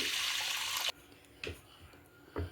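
Water pours into a pressure cooker holding horse gram in a steady rush for about a second, then stops, followed by a couple of light metallic knocks.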